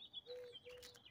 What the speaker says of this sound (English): Come on, bird. It's like a bluebird, blue jay.